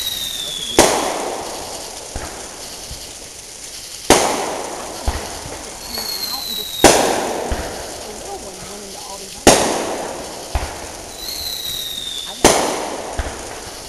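Fireworks bang outdoors in sharp, loud bursts about every two to three seconds, each followed by crackling and fading hiss, with whistling rockets rising between blasts and people talking faintly.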